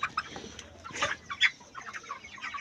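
Chickens clucking up close, about four weeks old and raised for meat, with a steady run of short clucks and sharper calls over soft farmyard background.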